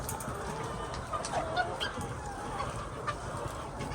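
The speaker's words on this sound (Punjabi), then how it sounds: "ਆਹ ਵੇਖੋ ਜੀ ਮਾਸ਼ਾਅੱਲਾ ਮੁਰਗੀ ਸਾਡੀ" Layer hens on a Pakistani poultry farm cluck and squawk in a busy, continuous chorus, with a few louder nearby calls over a dense flock murmur and no voices.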